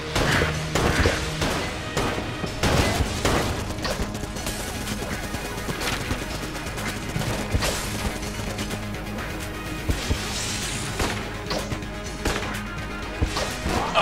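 Mighty Casey baseball bat attacks in the Enter the Gungeon video game: repeated hard whacks and crashes over a dense bed of game effects and music, loud and continuous throughout.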